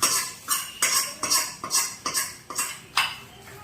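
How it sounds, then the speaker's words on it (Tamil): Greens and dal being sautéed with dried red chillies in a pan for South Indian paruppu keerai kadaiyal; a spoon or spatula scrapes and clinks against the metal pan in about seven steady strokes, close and clear, with no talk. "இப்போ வதக்கி விடுங்க. இப்போ கீரையில் சேர்த்துக்கலாம்."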